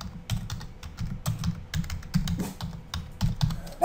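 Typing on a computer keyboard, a steady run of quick, close key clicks in irregular bursts, fairly quiet and heard alone.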